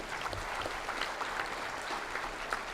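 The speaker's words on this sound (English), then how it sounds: "Mr. Tan Ching, I think, deserves a round of applause." An audience at a convention opening ceremony applauds for Mr. Tan Ching, a dense, even wash of clapping that continues steadily throughout.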